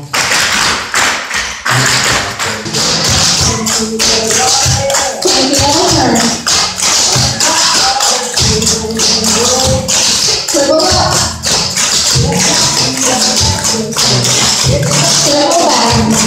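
Clogging dance taps from a group practicing the rocking chair step, with dense, rapid metallic clicks and stomps in quick rhythmic bursts over steady background music.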